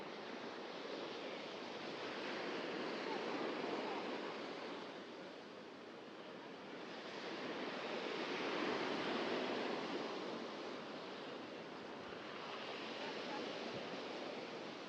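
Sea surf on the shore along the Navaginskaya embankment in Sochi, a steady broad wash of waves swelling and easing in slow surges, moderately distant, with faint wind noise.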